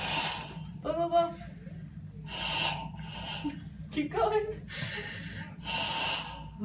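A child blowing out the nose after a nasal rinse during a whooping cough check, several forceful breathy blasts and snorts spaced a second or two apart, with an adult speaking softly in between.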